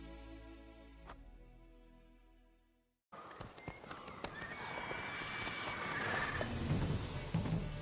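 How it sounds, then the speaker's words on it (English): Horse steps with clip-clop hooves and neighs in The Witcher 3 video game, first faint with a single click, then loud and busy after a brief silence, hoofbeats and whinnies over game ambience. "Whoa there, Roach"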